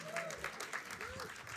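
Audience applause at a communication arts and sciences alumni awards celebration, steady clapping from a crowd with a voice talking over it.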